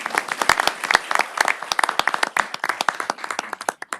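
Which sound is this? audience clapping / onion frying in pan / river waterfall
audience clapping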